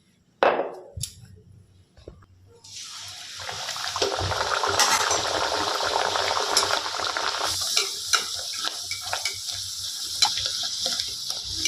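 Naan puri dough drops into hot oil and sets off a loud, continuous bubbling sizzle, preceded by a few sharp knocks and a brief quiet, with faint utensil clinks over the frying.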